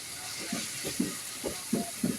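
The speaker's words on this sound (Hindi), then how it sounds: "सारे मसालों को अच्छे से भून लेना है हमने" Salt, red chili powder and paprika roasting in a pan for a makhni chicken gravy, with a faint steady sizzle and a series of soft, rhythmic stirring scrapes about every half second.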